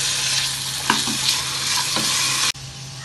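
Coriander and mint leaves sauté in a pan for vegetable pulao, a steady close sizzle with a few soft stirring scrapes and a sharp clatter near the end, no voices.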